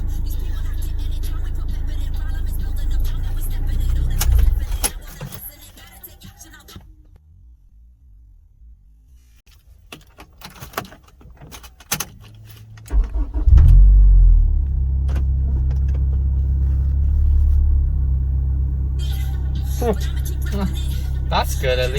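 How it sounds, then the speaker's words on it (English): A Honda S2000 AP1 engine cranks and restarts after a quiet pause, then settles into a steady, close, low idle rumble. Speech comes before the pause. "going to restart the car"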